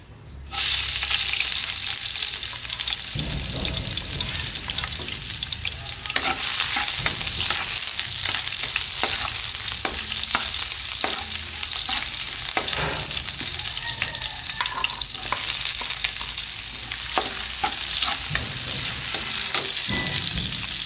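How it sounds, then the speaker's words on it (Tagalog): Garlic, onion and ginger sauté in a hot pan, sizzling steadily and close up for the whole stretch with recurring clicks and scrapes of stirring, no voices. "Magigisa na tayo ng bawang natin at saka sibuyas"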